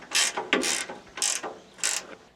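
Ratcheting wrench work loosening the single clamshell bolt on a Woodmaxx MX-9900ss wood chipper, four bursts of close, crisp metallic clicking with short pauses between, no talking.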